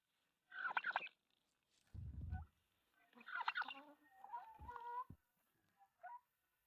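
Turkeys on a small farm in Belarus in winter gobble in a few separate bursts at close range, with gaps of quiet between calls and a low thump or grunt in between.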